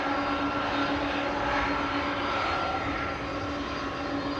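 Old aircraft engines roar steadily at Amsterdam Schiphol Airport, a loud, continuous drone with a sustained low hum that holds evenly throughout.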